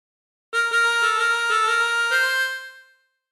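A short phrase of the Family Guy theme melody played on a chromatic harmonica, several clear reedy notes in quick rhythm with a sustained final tone, close and alone with no talking.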